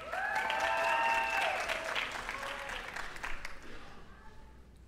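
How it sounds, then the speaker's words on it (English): Applause for graduates at a college commencement ceremony fills a large hall, loud and sustained before gradually thinning out, with a voice speaking over the clapping. "Let's recognize these graduates with our applause."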